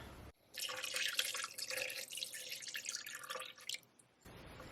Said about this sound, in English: So 1 cup of beef broth,